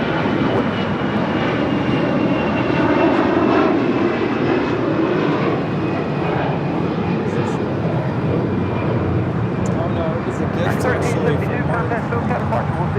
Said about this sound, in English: That is American Airlines 1372 departing to Dallas Fort Worth on an A321.